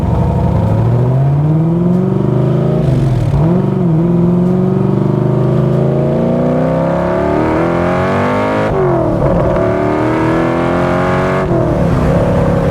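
A 1965 Backdraft Cobra sports car accelerates hard from a stop sign, its engine note climbing through the gears with two clear shifts, loud and close from inside the car.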